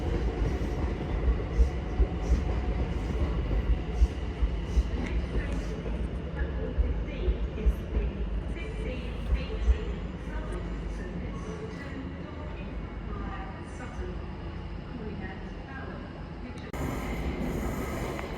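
A Class 701 electric train pulls out of Clapham Junction bound for Hampton Court, its steady rolling rumble with rhythmic wheel clicks fading over time, heard nearby under a speaking voice.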